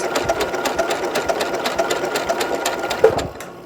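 A Continental M8 sewing machine sews mirage stitches in a steady, fast, even rhythm of needle strokes, close and clear, before slowing and stopping.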